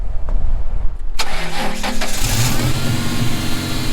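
An old car, 21 years old, being jump-started from a portable jump pack: after a second of low rumble the engine cranks and catches, then settles into a loud, rough idle close by.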